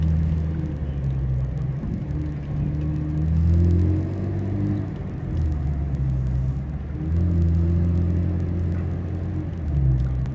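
A Chevrolet Camaro rolls onto a race track, its engine a steady low rumble with gentle swells in revs, heard from inside the car and free of speech.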